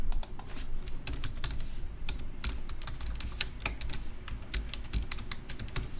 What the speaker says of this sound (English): and now I type my name here